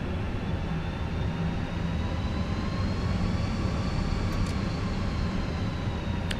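Fenix A320 jet engines spooling at takeoff power in Microsoft Flight Simulator, a steady broadband roar with a faint rising whine, continuous and even with no speech.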